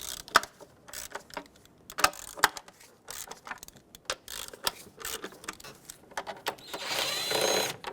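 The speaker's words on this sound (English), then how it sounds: "I'm going to work my way from the outer bolts to the inner bolts, just breaking them free" A ratchet breaking free the 8mm intake manifold bolts on a 2011-2020 Dodge Grand Caravan 3.6L, heard as close, irregular metallic clicks and knocks that end in a brief, louder whirring spin.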